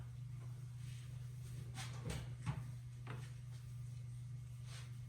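A wooden drawer full of paint brushes slides open in a workshop, a couple of short scraping knocks around the middle, moderately close against a steady background hum.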